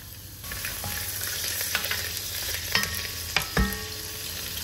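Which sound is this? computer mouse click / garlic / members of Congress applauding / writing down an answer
garlic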